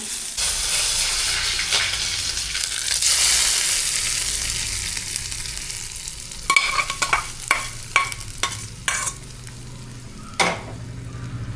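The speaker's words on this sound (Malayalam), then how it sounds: "അപ്പോൾ അതിലേക്ക് വറുത്തിടാനുള്ള തേങ്ങ കറി ഒന്ന് വറുത്തോണ്ടിരിക്കുകയാണ്." Grated coconut roasts in a pan for a pumpkin and bean erissery, giving a steady close sizzle that is later broken by a series of sharp scraping stirs, with no talk.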